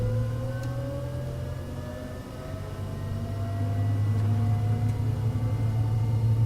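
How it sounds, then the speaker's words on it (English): The right engine of a Flysimware Learjet 35A spools up in a flight simulator, a rising turbine whine climbing slowly over a heavy low rumble that grows louder, with no talking. "So we're going to start the right engine."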